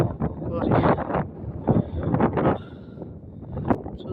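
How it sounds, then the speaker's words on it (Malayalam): A strong, cold wind gusts at Thamburatti Para, a rocky outcrop. It buffets the microphone in loud, rumbling bursts that rise and fall unevenly across the clip. "പക്ഷെ ഭയങ്കര കാറ്റാണ്, നല്ല തണുത്ത കാറ്റ്."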